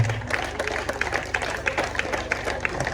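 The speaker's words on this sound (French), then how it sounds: "On va applaudir très très fort pour Dieu." An audience applauds loudly at a stage show blending music and literature, a dense, steady wash of many hands clapping with sharp individual claps throughout.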